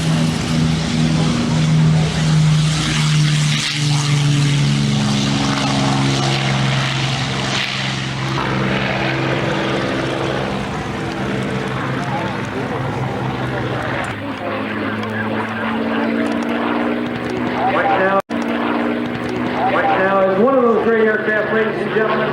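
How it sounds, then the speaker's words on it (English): P-51 Mustang warplanes roar past at a 1994 CAF airshow in Frederick, Maryland, their propeller engines loud and droning, then fading and rising again, while a public-address announcer talks over them. "Ladies and gentlemen, the P-51 Mustangs, flown by Colonel Regent"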